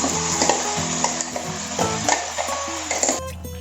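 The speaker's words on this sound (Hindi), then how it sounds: "अभी इसमें जो धनिया और टमाटर का पेस्ट था वो डाल देंगे।" Tomato and coriander paste tipped into fried onions in a pan for stuffed brinjal gravy, a loud steady sizzle with repeated spoon clatters and scrapes against the pan, ending in a sudden drop.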